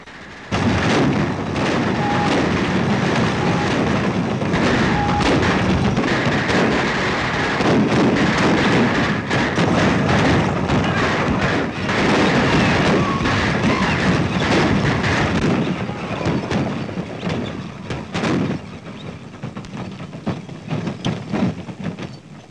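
Gunfire rattles through a 1936 John Wayne western, a dense, loud barrage of overlapping shots and booming reports that keeps up for a long stretch before thinning to scattered, quieter bangs near the end.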